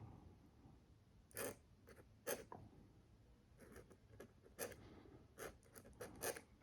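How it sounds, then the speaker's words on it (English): Dip pen nib scratching across smooth vellum paper in short separate strokes, each a brief dry scrape, close and quiet with soft pauses between lines. "Draw on vellum."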